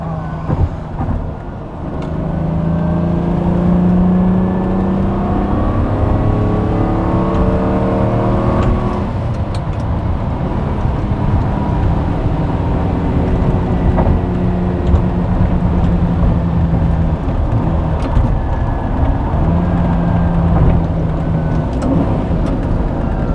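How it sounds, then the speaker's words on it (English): A 2003 Lamborghini Murcielago's V12 engine roars loudly and steadily behind the driver, rising and falling in pitch as it revs, heard up close throughout. "Finally have a V12 Italian engine behind my back."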